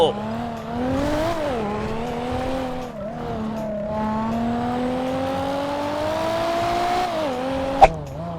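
Game car from GTA V driving along with a steady engine drone that rises and falls in pitch as it revs and shifts, with a short sharp bang near the end, under faint background voice.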